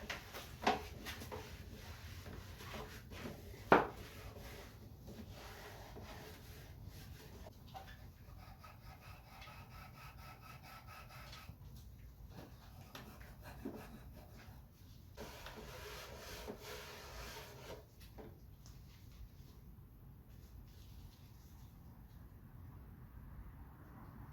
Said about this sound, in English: I'm gonna come back with a damp rag and just wipe it down one more time